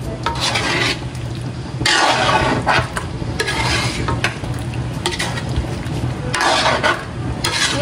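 Breadfruit snack (binagkat na rimas) is stirred in a pan with repeated rasping, scraping strokes that come in louder bursts, close and steady, with no talk.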